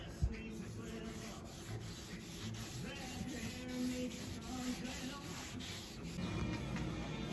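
Wood being sanded by hand during an antique farmhouse remodel: a steady, continuous rubbing rasp that swells and eases in long strokes, close and fairly loud, with no speech.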